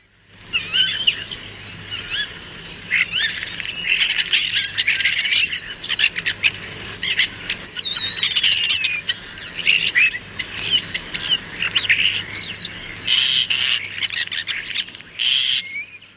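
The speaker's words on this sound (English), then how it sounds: "Starlings gather in an oak tree in the wood before leaving to roost in a conifer plantation several miles away." A flock of starlings gathering in an oak tree in a wood at evening, a dense continuous chatter of whistles, chirps and squeaks with bursts of wingbeats, loud and steady throughout, with a low hum underneath.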